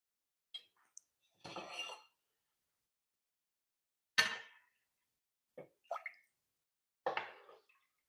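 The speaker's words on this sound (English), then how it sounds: "I'm sure there's more efficient ways to be scooping this bone broth, but I don't know where my large ladle is, so we're going to do the small ladle" A small ladle scoops bone broth from a pot in a quiet kitchen, giving about five separate liquid slurps and pours with faint clinks of metal against the pot, spaced by silence.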